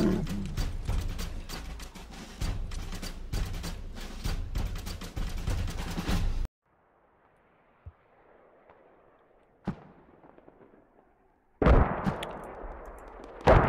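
Artillery fire mission in the Squad game: dense, continuous rolling gunfire and booming blasts, then a near-silent gap with a couple of distant thumps, and a final loud burst of fire.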